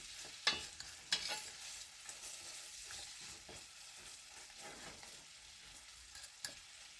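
Onions frying in a pan alongside cube steak, a low, quiet sizzle punctuated by a couple of sharper stirring clatters early on and a few soft pops.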